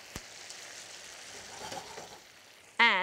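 Tuna going into a pan of simmering puttanesca sauce gives a soft, steady sizzle for about three seconds, with a sharp tap near the start and a louder clatter right at the end.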